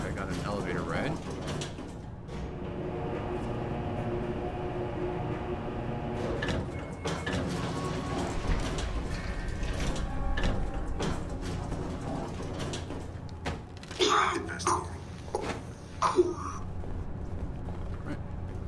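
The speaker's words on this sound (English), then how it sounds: "Looks like I got an elevator ride." An elevator runs in the Alpha Protocol video game, giving a steady mechanical hum and rumble with a few sharper clanks and rattles near the end.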